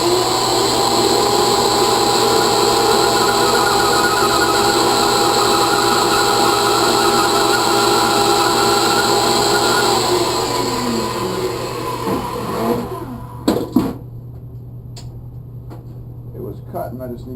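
A Harbor Freight Port-a-band 47840 portable band saw cuts through metal, giving a loud, steady whining drone for about twelve seconds that fades out, followed by a few sharp clanks.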